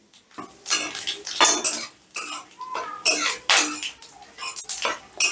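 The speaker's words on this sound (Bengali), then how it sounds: "ফোড়নটা একটু নাড়াচাড়া করে নিচ্ছি।" Whole spices (cardamom, cinnamon, dried red chilli, bay leaf and cumin) tempering in hot oil: repeated metallic scraping and clinking of a utensil against the pan in quick bursts, close and loud, with a faint sizzle beneath.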